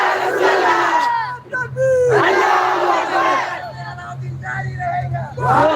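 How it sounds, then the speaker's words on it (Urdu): A crowd at a Sunni religious gathering chants slogans in loud, forceful bursts, with voices rising and falling in waves over a steady low hum and a background of crowd noise. "نعرے بنا رہے تم لوگ"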